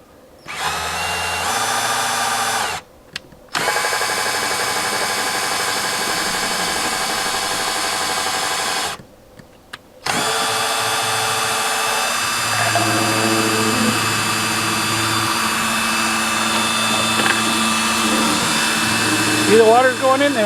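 A power drill drives a small pump refilling a 10-gallon camping water tank, a steady close motor whine with two brief stops, later pitch shifts and faint talk underneath.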